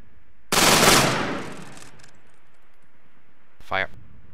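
A rifle volley rings out on command during close order drill, a single loud, sharp crack with a rolling echo trailing off, followed later by a shouted command.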